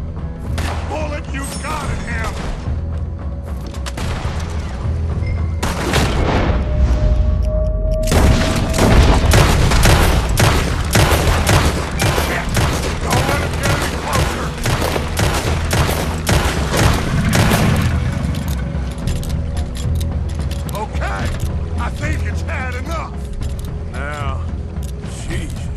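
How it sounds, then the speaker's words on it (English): A Red Dead Redemption 2 shootout erupts in rapid, loud gunfire bursts and booms, dense volleys mixed with mechanical clatter and occasional game voices. "Put every bullet you've got in him."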